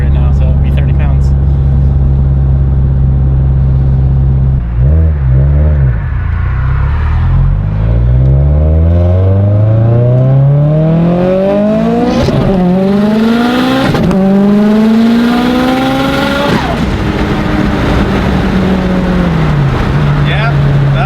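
A 1,000 WHP Subaru STI running over 50 PSI of boost pulls hard through the gears, its loud engine note climbing in pitch again and again with brief breaks between rising sweeps, heard from inside the car.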